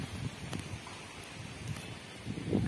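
Steady wind noise rushes through a garden after rain on a cycling tour route in West Bengal, a continuous broadband roar with gusty swells and light rustling, close to the microphone.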